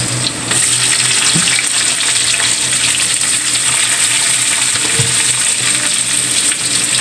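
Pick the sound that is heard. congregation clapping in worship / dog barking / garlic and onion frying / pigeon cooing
garlic and onion frying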